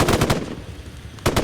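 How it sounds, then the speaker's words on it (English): Rapid automatic gunfire from a multiplayer horror video game, loud bursts of shots at the start, a short lull, then another burst near the end. "Stop shooting each other!"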